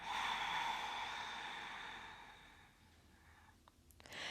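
A slow, long exhale during a beginner core exercise on the floor, a soft breathy rush fading steadily over several seconds, close and alone.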